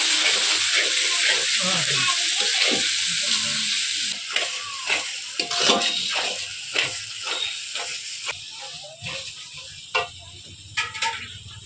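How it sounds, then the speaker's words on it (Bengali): Spice paste cooking down with tomato paste and salt in a home kitchen, a hissing sizzle that settles into intermittent scraping stirs and spatters. "সব কিছু মশলা ভালোভাবে কষিয়ে নেবে।"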